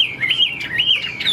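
A caged hwamei songbird sings nearby in bright, looping whistled phrases that rise and fall continuously, with a second cage set close beside it.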